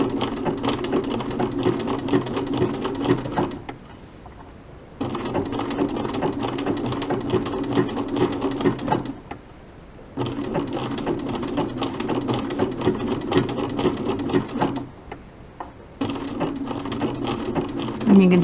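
Sewing machine stitching machine appliqué on a snowman quilt block, running in steady bursts with brief pauses between runs, close and fairly loud.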